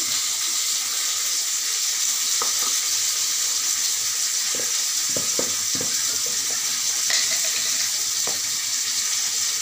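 Potatoes fry steadily in a pan with a continuous loud hiss, broken by a few soft clinks and stirring knocks, and no one speaks.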